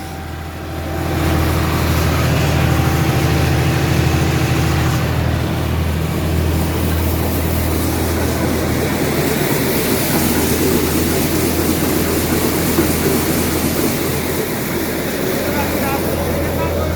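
An NVT thresher runs off a John Deere 5210 tractor at a farm threshing, with straw being processed. A loud, steady low engine drone and mechanical rumble continues throughout after a quick build-up at the start.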